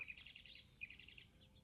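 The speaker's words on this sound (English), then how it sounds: "there are birds singing right now" Birdsong drifts in from a short distance, a run of repeated bright chirping phrases in two bursts over a soft low background rumble, with no one talking.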